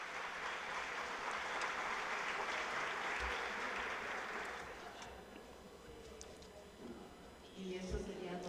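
An audience applauds a discussion panel steadily, a dense patter of clapping that fades out after a few seconds, leaving a quiet room with faint thumps.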